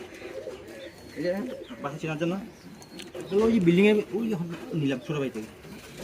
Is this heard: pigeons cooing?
yes